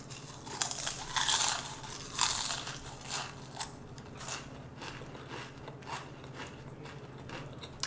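Crunchy bites of yukgaejang-flavored potato chips eaten by the mouthful, with a cluster of loud crunches early on that thin out into softer, irregular chewing crackles, close up and without talking.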